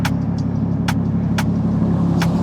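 A Nissan Skyline R33 drives by in a drift-car setting, its steady low engine drone continuous and fairly loud, with a few short sharp higher bursts standing out over the rumble.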